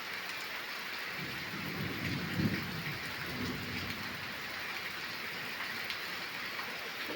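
Steady summer rain pours down in a constant hiss, with a low rumble of thunder swelling briefly in the middle, heard from a distance and without any talk.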